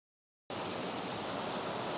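A waterfall among wildflowers roars as a steady, dense wash of rushing water. It starts abruptly after half a second of silence and stays loud and even, with no voices.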